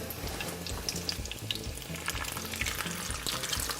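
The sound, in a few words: gluten-free beef taquitos frying in a pan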